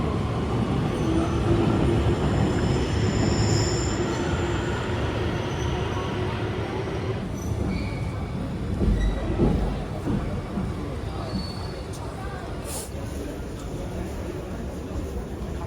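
Steady low rumble and rattle inside a moving train heading to central Amsterdam, continuous throughout with faint voices now and then.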